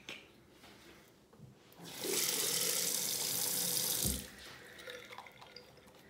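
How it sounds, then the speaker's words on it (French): Tap water running into the tank of an air cooler, a steady rushing flow for about two seconds between quieter handling sounds and a few drips, close and alone. "je l'ai rempli de l'eau du robinet"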